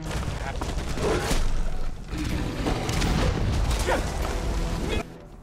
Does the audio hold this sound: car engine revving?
no